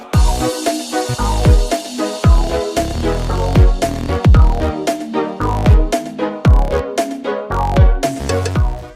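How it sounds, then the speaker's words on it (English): Upbeat instrumental Cuphead-style game music from the Indie Cross soundtrack with punchy percussive hits on a steady beat and layered melodic parts, loud and continuous. "The unnamed Cuphead song sounds like this."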